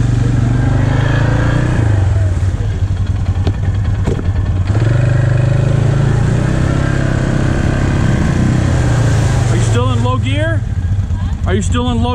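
A motorbike engine revs hard in low gear with a loud, close, throaty roar that rises and falls, as voices talk over it and the rider works to get unstuck.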